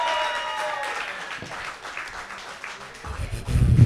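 A live show's studio audience claps for guest Johanna, a short burst of applause that fades through the middle, then a louder rumbling thump near the end.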